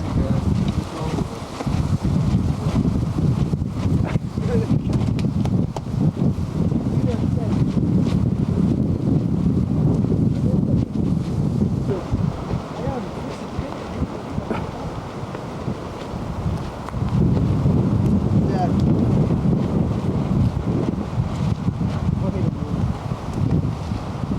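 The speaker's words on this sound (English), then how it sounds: "As you can tell, it's like a gale force wind here." Strong gale-force wind buffets the microphone at a lakeside campsite near Ely, Minnesota, a loud, continuous roaring rumble that surges and eases throughout, with faint voices partly buried beneath it.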